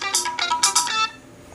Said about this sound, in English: similarly, you've got various ringtones